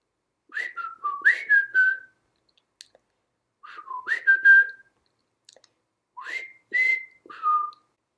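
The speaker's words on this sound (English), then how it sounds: "Or whistle the words." Someone whistles three short phrases, each a quick run of gliding pitched notes, separated by brief silences.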